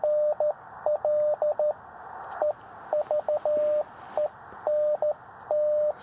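Morse code from a special event station received on a KX3 radio during a portable summit outing: a single steady mid-pitched tone keyed in crisp dots and dashes with irregular pauses, clear and fairly loud over faint background hiss, with no talking.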